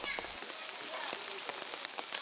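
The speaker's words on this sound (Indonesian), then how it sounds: "Hujan deras terus ya kan?" Heavy rain pours steadily during flooding in Aceh, a dense, constant patter on surfaces with scattered sharper drop hits, heard fairly close and mostly on its own.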